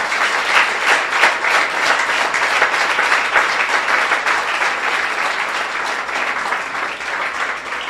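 Church congregation applauding during a Spanish-language evangelical service in Mexico: steady, dense clapping from many hands that fills the room, loud and continuous throughout with no talk over it.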